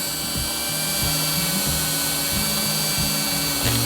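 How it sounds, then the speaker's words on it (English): A Dremel rotary tool fitted with a steel wire brush runs at low speed, scrubbing the commutator plates of a locomotive motor. It gives a steady close buzz with a faint rhythmic grinding pulse and no talk. "I'm going to use a Dremel tool with a steel wire brush on low speed just to give the commutator plates a little more cleaning."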